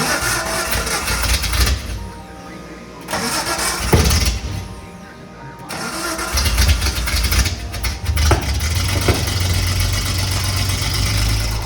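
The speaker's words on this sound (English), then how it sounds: "The Datsun is running." A Datsun 280Z engine cranks, catches and settles into a rough, loud idle after sitting for over 30 years, with uneven revving surges and mechanical clatter.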